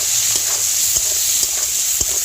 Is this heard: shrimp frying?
yes